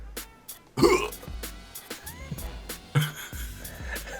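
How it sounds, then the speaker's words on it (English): A single short burp-like gulp rises abruptly near the start and stands out at moderate loudness, with further faint throaty noises and low rumbles afterwards in an otherwise quiet room. "it sounded like you burped"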